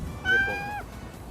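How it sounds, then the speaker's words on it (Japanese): A single short cat meow, clear and fairly close, rising then falling, followed by quiet background. "かわいい猫"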